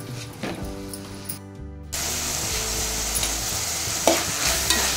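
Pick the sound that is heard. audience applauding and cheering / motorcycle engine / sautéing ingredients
sautéing ingredients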